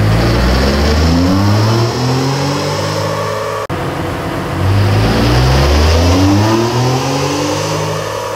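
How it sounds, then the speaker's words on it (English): Turbocharged Ford Bronco engine revving hard on a chassis dyno during a baseline pass, loud and close, rising in pitch through two long sweeps as the turbo spools, with a brief cut between pulls. "You could hear it spool, you could hear the turbo come on."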